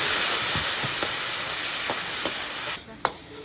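Chopped chili hitting a hot oiled wok with ginger, garlic and Sichuan pepper, a continuous hiss with several spatula knocks, then a sharp drop in sizzle and one final clack.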